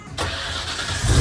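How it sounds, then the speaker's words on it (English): A Ford Cobra with a 2-valve engine cold starts: a sudden crank catches into a loud, rough idle that swells and grows deeper toward the end. "Cold start."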